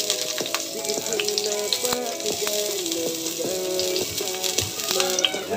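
Onion hits hot oil in a pan and sizzles steadily, with scattered crackles and pops over a constant frying hiss, moderately close.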